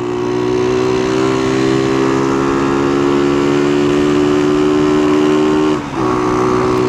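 Small stolen motorcycle engine idling steadily and close, a constant droning hum with a brief dip near the end, running on without cutting out; no talking.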